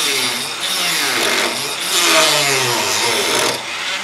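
A handheld Dremel rotary tool grinds away at an old lead figure, giving a close, steady, buzzing whine with a slight rise partway through that runs for about four seconds without talk.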